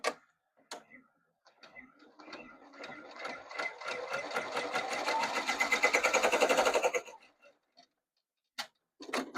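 An embroidery machine stitches cursive yarn in a rapid, rhythmic mechanical ticking that builds and holds steady for several seconds, then stops, with sparse clicks and handling noises before and after.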